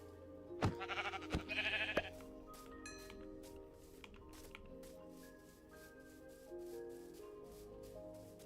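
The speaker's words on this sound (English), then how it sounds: "Why is there a red sheep out?" Sheep in the Minecraft video game bleat a few times in quick succession near the start, followed by scattered clicks and game tones, with faint talking underneath.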